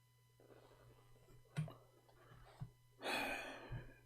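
Close breathing picked up by a phone caller's microphone, a few sharp gasping intakes and a longer breathy exhale over a faint electrical hum, with no talk.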